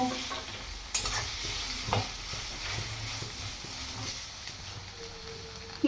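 Food fries in a pan with a continuous sizzle and bubbling, punctuated by a few sharp clacks of a spatula stirring against the pan.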